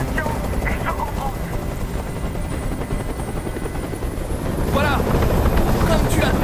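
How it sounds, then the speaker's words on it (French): A helicopter hovering close by in the video game Detroit: Become Human, a continuous loud rotor thrum and engine roar, with faint voices in the background. "Je peux plus supporter ce bruit! Fais dégager cet hélicoptère"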